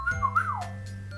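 A person whistles a short, clear gliding tune up and down over about half a second, close and fairly soft, over a steady low background hum.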